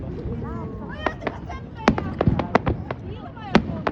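Fireworks bursting to mark the end of summer and the boating season, a quick run of sharp cracks and pops at moderate distance, irregular and overlapping, with people talking throughout.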